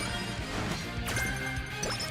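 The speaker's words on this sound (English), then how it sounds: "somebody has an event with this really realistic knocking sound" A realistic knocking sound from an in-game event in a video game, with a few sharp, separated knocks over steady background game music.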